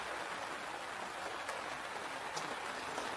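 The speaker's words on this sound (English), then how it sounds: "See, it's raining outside." Steady rain falls outdoors near a home after a forest outing, a continuous soft hiss of drops with a few slightly sharper patters standing out, no voices.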